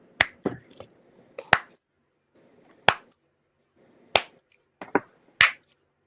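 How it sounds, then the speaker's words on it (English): Slow, deliberate hand claps from one person during a wrist-watch livestream: about seven sharp, crisp smacks spaced roughly a second apart with near silence between them. "Slow clap."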